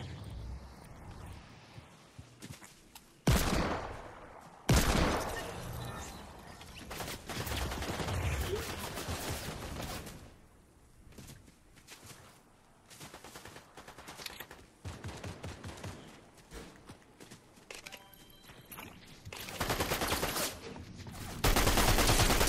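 Fortnite video game gunfire, with bursts of rapid automatic fire and single shots coming in loud clusters, separated by quieter stretches of game ambience.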